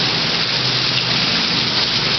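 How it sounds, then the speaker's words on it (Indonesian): Heavy rain with very strong wind in Blitar, a dense, loud and steady wash of downpour roaring continuously without pause and with no voices. "Anginnya kenceng banget."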